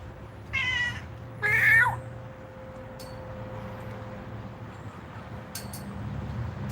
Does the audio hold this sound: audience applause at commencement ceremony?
no